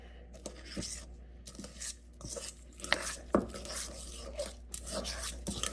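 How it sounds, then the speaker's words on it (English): Pepper popper filling for sweet peppers mixed in a bowl, with close scraping and rubbing strokes and occasional clinks of a utensil against the bowl, irregular and moderately soft, no talk. "And you just mix all this together"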